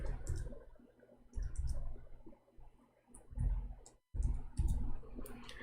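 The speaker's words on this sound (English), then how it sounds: "Oh boy, I'm typing in English again." Typing on a computer keyboard: close, crisp key clicks come in quick irregular bursts separated by short pauses, with no talking.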